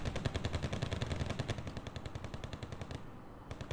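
Rapid machine-gun and rifle fire from a military strategy video game, dense bursts of repeated shots rattling continuously at close range, briefly thinning toward the end before resuming.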